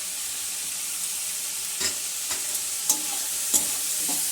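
Chopped garlic, ginger and green chili frying in a pan: a loud, steady hiss of oil with a few soft scrapes from stirring, close up, with no voices.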